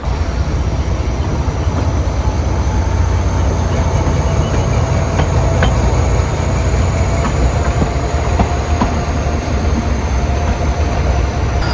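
A Kangra Valley Railway train pulling into Baijnath station after crossing a river, with a steady loud rumble of wheels and carriages throughout and faint clacks over the continuous roll.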